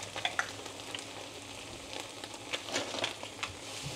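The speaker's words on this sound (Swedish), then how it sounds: "Det här ska stekas i 1 minut." Garlic frying in a pan ahead of adding cream, giving a steady hiss of sizzling with a few light crackles and faint stirring scrapes, close and alone without talk.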